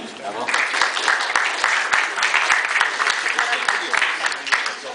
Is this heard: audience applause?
yes